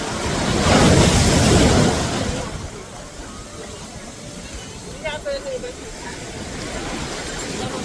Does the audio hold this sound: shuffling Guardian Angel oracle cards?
no